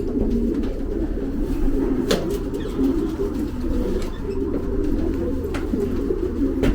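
Racing pigeons at a post-season auction loft, including a small Swiss-ringed bird, coo in soft repeated low murmurs, several birds overlapping steadily throughout at moderate volume close by.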